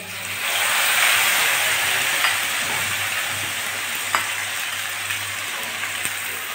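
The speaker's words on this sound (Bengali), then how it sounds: "আলুর সঙ্গে মশলাটা ভালো করে আগে কষিয়ে নেব।" Potatoes sizzle in hot oil with black cumin, cumin, dried chili and ginger, a steady close-up hiss of frying with a few soft stirring clicks.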